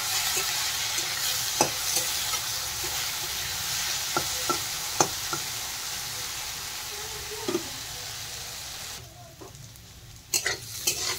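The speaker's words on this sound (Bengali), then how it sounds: "এখন নেড়ে চেড়ে আলু একটু প্রথমে ভালো করে ভেজে নেব।" Potatoes seasoned with salt and turmeric fry in a pan with a steady close sizzle, broken by several sharp clicks and scrapes as a spatula stirs them, and a quieter pause before the stirring resumes.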